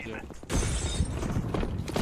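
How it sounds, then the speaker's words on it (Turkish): Sudden crash of glass shattering in Counter-Strike 2, a sharp break followed by scattering debris over loud in-game gunfire and noise, with people talking over it. "Olsun, yakına düşüyor cam kırılması."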